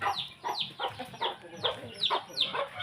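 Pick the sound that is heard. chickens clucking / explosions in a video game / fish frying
chickens clucking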